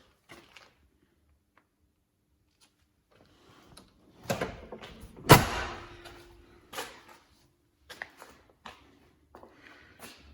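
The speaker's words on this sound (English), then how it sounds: "Doors shut nice and cleanly" Doors on a restored 1998 Land Rover Defender 90 50th Anniversary 4.0 V8 automatic shut with a few sharp clunks. One loud, solid slam stands out among softer knocks and latch clicks in a quiet setting.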